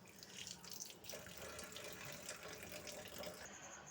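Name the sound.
washing pumpkin shoots in water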